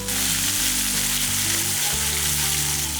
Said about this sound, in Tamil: பாருங்கள் இதெல்லாம் நல்லா வதங்கிட்டு இருக்கட்டும்